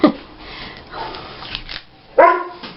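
Dogs snuffle and shuffle about indoors, with short bursts of sniffing and movement at the start and again near the end and quieter rustling in between, close by and with no talk.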